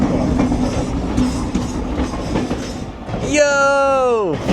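Lehigh Gorge Scenic Railway train rolls along with a rented caboose, a steady rumbling clatter of wheels on rails, then a loud tonal wheel squeal or horn-like wail rising near the end; voices talk faintly in between.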